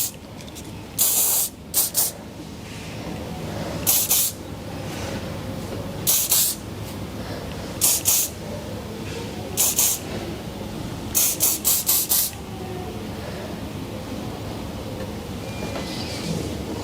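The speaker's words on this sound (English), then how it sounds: "I'm going to finish off again with a bit of clay in the spray, just to smooth down any areas" Hairspray from an aerosol can misted over a finished half-up, half-down styled hairdo, coming as a series of short, close hissing bursts in irregular rhythm, some in quick clusters, with quiet pauses between.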